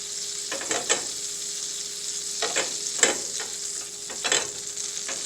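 Butter sizzles in a hot pan at medium heat, a steady close hiss with a few brief crackling pops scattered through it.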